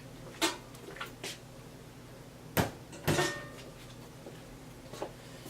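Door assembly being pulled off an Electro Freeze B24 soft-serve machine: a few sharp metallic clunks and clicks, spaced apart over a quiet hum, with two louder knocks in the middle.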